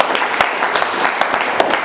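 Audience applause in a large hall during a motivational leadership talk, dense continuous clapping with sharper individual claps standing out, loud and close, no talking.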